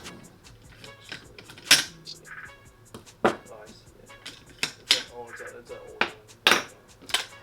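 Parts of a Tokyo Marui MWS gas blowback airsoft rifle click and clack during disassembly as the bolt and charging handle are pulled out, giving several sharp, close metallic and plastic knocks with soft handling noise between them.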